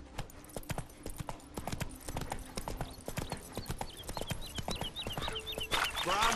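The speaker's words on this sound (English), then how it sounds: "That's it, Roach." Horse hooves clip-clop in a steady walking rhythm in The Witcher 3 video game, close and fairly loud, with a soft whinny-like tone and game ambience toward the end.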